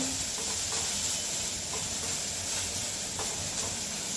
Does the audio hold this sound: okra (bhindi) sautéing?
yes